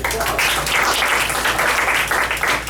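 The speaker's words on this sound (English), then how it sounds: "let's applause" Office meeting crowd breaks into brief, dense clapping, loud and continuous throughout the short burst.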